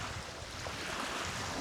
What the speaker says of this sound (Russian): А ветер все не успокоится.